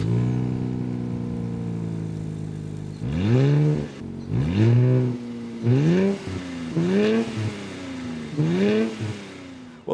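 A 2023 Nissan Z Limited Edition sports car idles with a deep burble through its twin exhausts, then gets five sharp blips of the throttle, each rising and falling quickly. The revs are loud and close, and no one talks over them.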